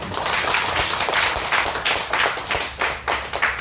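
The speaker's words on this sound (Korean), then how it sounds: "다시 한번 박수." Members of Cornerstone Presbyterian Church give another round of clapping, loud and close, with a rough shared beat that runs throughout without speech.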